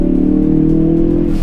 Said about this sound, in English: when you put your foot in it like I just did, it doesn't really feel that fast